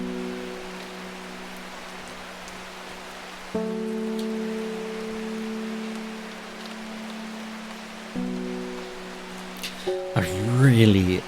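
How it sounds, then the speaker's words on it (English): Steady rain hisses evenly throughout as a broadband wash, with sustained tonal hums and drones layered over it and a brief burst of warbling sound near the end. "the rain sound"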